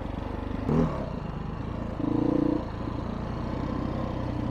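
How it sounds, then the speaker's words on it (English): A Beta 500 two-stroke TPI motorcycle with automatic oil injection runs at a steady, nearby idle with a buzzing rumble, rising in two brief blips of revving. "automatic oil injecting TPI bike"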